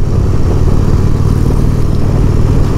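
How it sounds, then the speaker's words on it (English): A 2022 Indian Roadmaster touring motorcycle rides along with a steady, loud engine drone and a heavy low rumble, continuous throughout with no talking. "This is a very confidence-inspiring, bigger touring bike."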